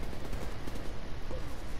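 Gunfire in The Division 2 firefight, dense rapid bursts of automatic shots overlapping into a continuous rattling barrage, loud and close.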